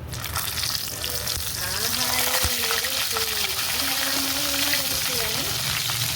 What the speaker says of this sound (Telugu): ఇప్పుడు మనము వంకాయ వేసేసుకుందాం